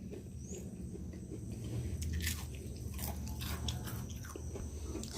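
Quiet, close crunching bites and chewing of a crispy-edged homemade fuyunghai omelette, with soft rhythmic mastication and no talking.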